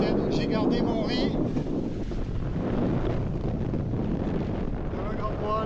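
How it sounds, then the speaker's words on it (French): Steady wind across a sailboat at sea in 12 to 14 knots, a constant close rush with microphone buffeting and a low water wash, with a voice talking over it. "là on a 12 à 14 nœuds de vent"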